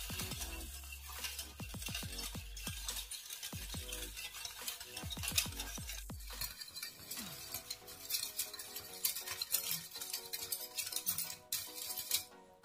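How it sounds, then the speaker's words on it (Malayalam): A spoon stirs sugar with vanilla essence in a bowl, repeated light scraping clinks in a quick rhythm, then softer continuous swirling and faint sizzle-like hiss, close and quiet with no voices. "നിന്ന് പഞ്ചസാര മെൽറ്റ് ആവണ വരെ ഒന്ന് ഇളക്കി കൊടുക്കാം."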